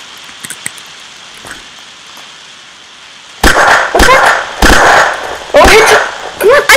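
A video game gunfight in Unturned arena brings several loud bursts of gunfire after a quiet stretch. The shots are close and harsh, grouped in clusters.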